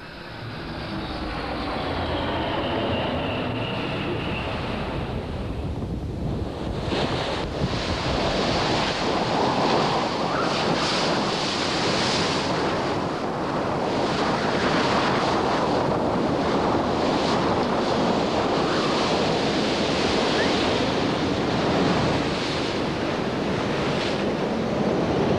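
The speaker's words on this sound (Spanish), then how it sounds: "Nos hemos encontrado a menudo con mares muy gruesas, con olas de unos 15 o 18 metros" Strong wind and heavy ocean waves roar around a sailing boat at sea in very rough conditions, a loud continuous rushing wash that swells after a quieter opening few seconds.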